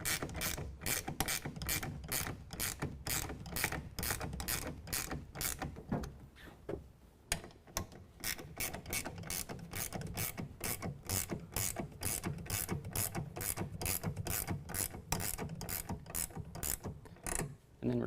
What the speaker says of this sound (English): We're going to tighten down all 3 clamps on our passenger side.